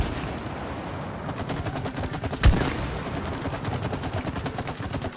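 Rapid gunfire from a co-op video game, a dense stream of shots running throughout with one sharper, louder blast near the middle, no talk over it.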